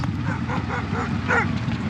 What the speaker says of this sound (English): Hopefully that dog doesn't follow us.